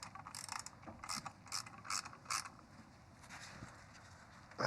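Rapid ratchet clicks in evenly spaced bursts as the last turbo manifold bolt comes off a Holden Colorado, close and fairly quiet, with no talking.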